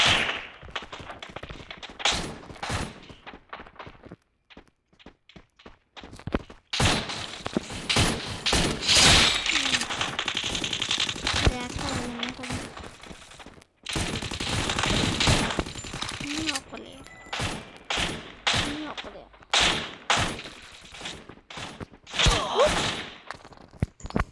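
Gunfire from the video game Free Fire crackles in rapid bursts and single shots, loud and close, broken by brief quiet gaps, with a voice talking at times underneath.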